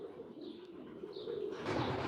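Pigeons coo on a rooftop in a soft, low, continuous murmur, fairly close, with a slight swell near the end and no voices.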